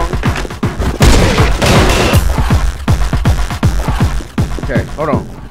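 Video game gunfire in rapid bursts of loud, close shots with booming impacts, interrupted briefly, and a voice talking over parts of the shooting.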